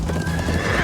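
Horses in the video game Minecraft Story Mode, a loud close whinny rising over busy hoof clatter and rumbling background, brief and dense.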